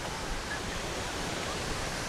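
Victoria Falls pouring water in a constant broadband rush, a steady distant roar with no breaks, heard from the walking path near the falls.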